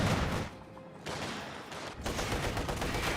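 Weapons fire in the Company of Heroes 2 video game, heard as a Panzerfaust launch amid the battle: dense, rattling bursts of gunfire with a brief dip between volleys, loud and continuous.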